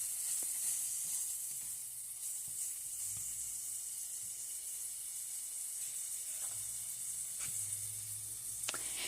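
Chopped breakfast food sizzles in a pan with a steady, fairly quiet hiss throughout, broken by occasional faint clicks and scrapes, with no talking.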